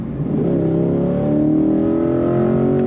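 A 2021 Chevrolet Corvette Z51 3LT coupe accelerates hard, its engine note climbing steadily in pitch as it pulls through the rev range, loud and close throughout.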